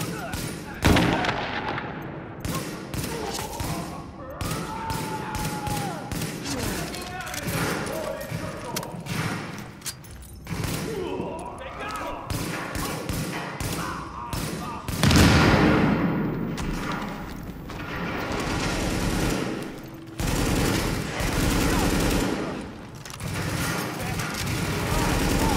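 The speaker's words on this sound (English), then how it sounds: "The escort party's taking heavy fire from the roof." Heavy gunfire in the video game Tom Clancy's The Division: loud, dense bursts of automatic weapon fire and booming shots rattling on and off almost continuously, with voices shouting over the battle.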